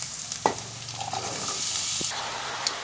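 Chopped ridge gourd goes into a pan of ginger-garlic paste, giving a soft, steady sizzle with a couple of light clinks as the pieces are stirred in.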